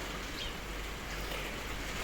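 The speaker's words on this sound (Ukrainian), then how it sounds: "А сьогодні у нас на дворі ось таке з вечора. Полоще дощ." Steady rain pours outdoors on a mild late-November evening just above freezing, a continuous broadband wash of drops on surfaces with no talk.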